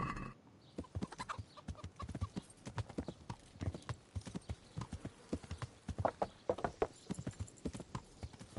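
Horse hooves clip-clop at a steady trot in a medieval video game, a close, rhythmic run of hollow knocks with faint farm-animal ambience behind them.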